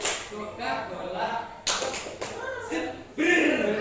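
A scout group in a training session performs a rhythmic clapping chant, with voices chanting together between sharp bursts of group claps that grow louder toward the end.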